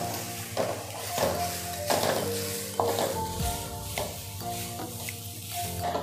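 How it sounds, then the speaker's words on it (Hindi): Grated bottle gourd cooking in desi ghee is stirred in a pan, giving regular scraping strokes about once a second with light metallic clinks over a continuous soft sizzle, close up and without talk. "लौकी को 3 से 4 मिनट के लिए इसी तरह चलाते रहेंगे कि लौकी सॉफ्ट हो जाए।"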